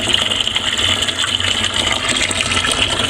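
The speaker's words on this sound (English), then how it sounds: "Measuring out my strike water." Hot strike water for brewing a double IPA pours steadily into a vessel, a close, loud continuous gushing splash with no talk.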